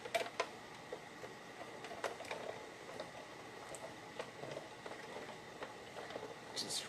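Paper is fed through an embossing machine to emboss leaf shapes, a faint, soft mechanical ticking and cranking with light irregular clicks in a quiet room.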